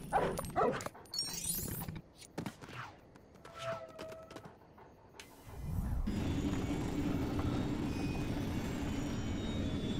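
A dog in the game Lego Harry Potter yips, barks and whimpers in short scattered bursts before a steady low rumbling noise takes over the second half, all fairly faint.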